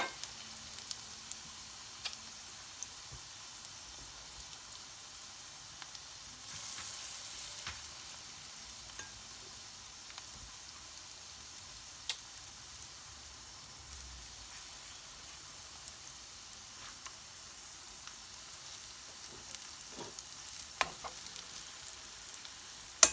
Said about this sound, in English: Right, so I'm going to let this cook until it is brown, and then I turn it over,